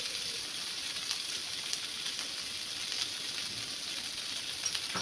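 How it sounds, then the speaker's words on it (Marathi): Red chillies sautéing in a pan for a dosa chutney, giving a steady, faint, even sizzle and hiss that runs unbroken throughout, with no voices. "हे 3 लाल मिरच्या घ्यायच्या आहेत. परतून घ्यायचं चांगलं"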